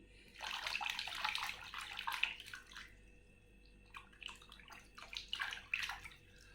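An animal toy being washed under running tap water, with splashing and gurgling flow in bursts at moderate volume and a short lull midway.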